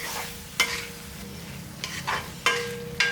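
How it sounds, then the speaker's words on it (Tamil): Chopped banana stem pieces sautéing in a pan for sambar, with a steady low sizzle under several sharp scraping stirs of a spatula, close and fairly loud. "இந்த 1 நிமிஷத்துக்கு நல்லா வதக்கிக்கலாம்."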